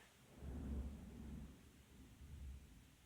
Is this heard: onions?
no